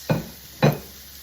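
Ground beef being tossed back into a pan with vegetables for a cheesy beef and cauliflower casserole, two short scraping, sizzling stirs about half a second apart, close and clear.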